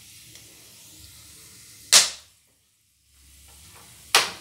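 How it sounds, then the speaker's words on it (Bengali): Whole spices (cardamom, cloves, cinnamon stick, bay leaf) frying in hot oil for tempering, two sharp loud pops about two seconds apart over a soft sizzle. "ফোড়নটা ভালো করে ভাজা হয়ে গেছে"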